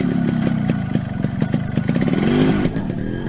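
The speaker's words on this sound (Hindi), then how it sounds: "Sit on my motorcycle." A motorcycle engine running nearby, a loud chugging, throbbing idle with rapid regular pulses and a brief rise in revs, heard alone.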